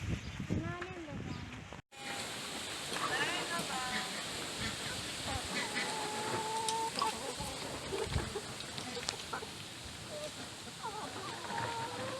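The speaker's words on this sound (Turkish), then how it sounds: "Hadi gel tavuk açalım." Chickens cluck and murmur around a village coop where eggs are collected, repeated close calls scattered throughout, with people talking over them after a brief cut near the start.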